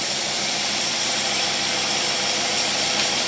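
An engine fitted with a Rochester single-barrel carburetor runs under load, giving a loud, dense, steady roar with no misses or stutters over a few seconds.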